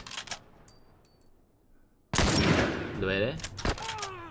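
Gunfire from the video game The Last of Us, a sudden loud burst of shots after a quiet stretch, then continued rattling under excited voices.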